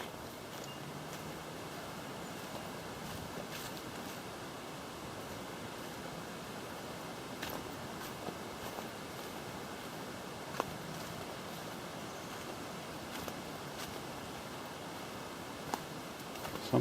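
Creek water flowing steadily through rainforest along a walking track near Somersby on the Central Coast, a broad continuous rushing wash close by with no talk over it.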